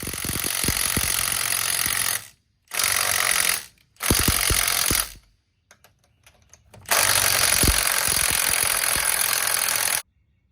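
A power tool loosens bolts on a Toyota Hilux in loud, close bursts of hammering: one long run, two shorter ones, a quiet gap with small clicks, then another long sustained burst.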